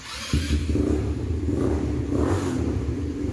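A 200cc 4x2 G-Force ATV engine catches and settles into a steady low rumble with mild revving, close by, without any voices.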